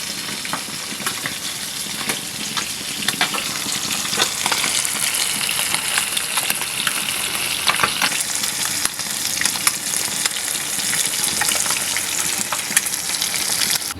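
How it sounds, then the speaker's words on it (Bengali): Fish pieces coated in turmeric, chili powder, salt and a little rice flour fry in hot oil, a steady dense sizzle with crackling pops running the whole time, close and fairly loud with no voices. "মুচমুচি করে ভেজে নিব এই জন্য আমি তেলের মধ্যে দিয়ে দিলাম"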